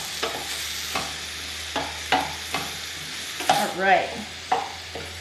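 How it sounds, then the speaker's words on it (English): Ground beef with onions and peppers is stirred in a hot pan for sloppy joes, a soft sizzle under a hum, broken by about six distinct spoon scrapes and knocks, with a brief spoken word near the end. "continue stirring it and keep mixing it up until the beef starts cooking"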